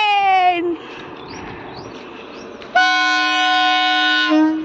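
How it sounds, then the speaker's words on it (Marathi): A train sounds its horn loudly and close by in Konkan, one blast, a pause filled with rumble, then a second long sustained blast, with no talk. "मला आपल्यासाठी हॉर्न मारला त्याने."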